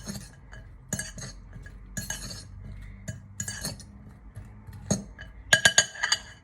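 Couscous being mixed with lemon juice in a bowl: a spoon scrapes and clinks against the bowl in irregular bursts, ending in a quick run of sharp glassy taps, close and clear.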